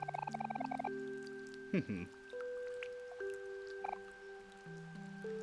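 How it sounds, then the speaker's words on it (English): Light rain patters in the Omori video game with soft scattered drips over a steady, tonal in-game music track, continuous and fairly quiet throughout. "The rain is a little bit lighter now."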